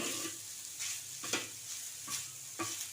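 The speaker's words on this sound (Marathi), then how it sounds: "पनीर टाकूया आता पनीर चांगलं परतून घेऊया" Paneer sautéing in a pan for paneer paratha, a soft continuous sizzle broken by regular stirring scrapes roughly every half second, close and alone without speech.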